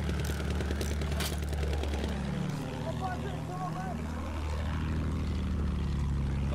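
Two propeller planes droning overhead in a Battlefield 1 tank battle, a steady engine hum with a Doppler-like sweep as they pass, continuous and moderately loud beneath a faint voice.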